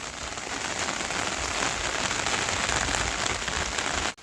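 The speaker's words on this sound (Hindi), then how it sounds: "बारिश ना बहुत तेज़ी से चल रही है" Heavy rain pouring down in a steady dense roar of drops hitting surfaces nearby, unbroken and without voices until it cuts off abruptly at the end.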